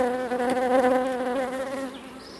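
Honeybees buzz loudly and close during a hive inspection before wintering, a steady, droning hum from agitated bees that fades slightly toward the end.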